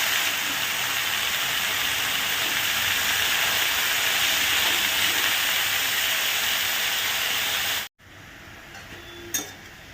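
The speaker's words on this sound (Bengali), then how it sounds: "তো এর মধ্যে দিয়ে দিচ্ছি এবার শাকটা।" Red spinach hitting a hot pan with roasted poppy seed gives a loud, continuous close hiss of sizzling that cuts off abruptly near the end, leaving a quieter stretch with a brief clink.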